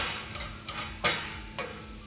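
Akuri masala with turmeric cooks on high heat in a pan, an even sizzle broken by several short scraping strokes of stirring at irregular intervals, close and fairly quiet.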